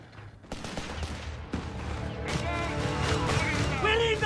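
Battle sounds from the video game Company of Heroes 3 in a North Africa desert campaign mission: bursts of gunfire and rattling automatic fire build into a loud, continuous fusillade, with voices shouting over the combat.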